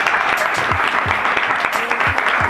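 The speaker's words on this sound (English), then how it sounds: "y'all give James Bing a wonderful round of applause" Club audience at an album listening party applauding a performer, a dense, loud wash of clapping with a few whoops, steady for the whole stretch.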